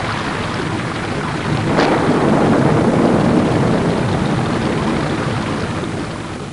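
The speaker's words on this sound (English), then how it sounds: "God dang, a severe storm this early?" Thunderstorm sound effect from The Oregon Trail video game, a loud steady hiss of heavy rain with a deep rumble of thunder swelling in the middle before slowly easing, with no voices.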